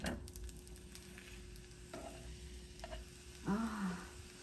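Oil goes into a covered pan of frying food and the food is then flipped, producing a quiet, steady sizzle with a few soft scrapes and a brief louder spatter near the end.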